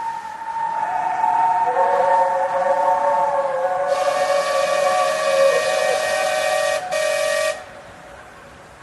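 A shrill steam whistle from a ghost train shrieks in long sustained tones, joined midway by a harsher blast that cuts off abruptly near the end, loud and close.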